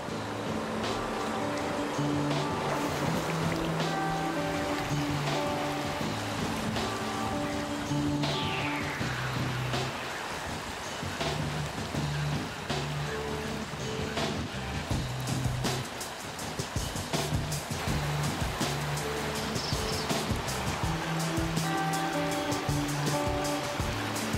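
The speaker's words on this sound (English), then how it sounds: "This is what Ray loves, the challenge of whitewater." Whitewater rapids rush past on a canoe journey down a river, a loud, continuous roar of churning water with splashes and slaps against the hull throughout.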